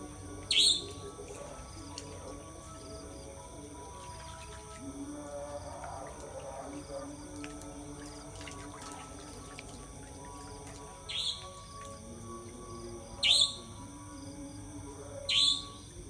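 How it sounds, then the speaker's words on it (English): Birds chirp at sunrise in Bali, Indonesia, giving a few brief, bright calls spaced far apart over a steady outdoor background hum. "Birds are chirping."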